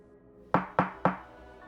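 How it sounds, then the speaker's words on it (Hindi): Three light, evenly spaced knocks on a window ring out crisply over near silence, a sparse horror-story sound effect with short decaying taps. "तभी खिड़की पर एक हल्की दस्तक हुई।"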